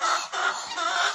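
Hens that have just started laying cluck together in a winter farmyard, a steady, fairly close murmur of overlapping clucks with no voices over it.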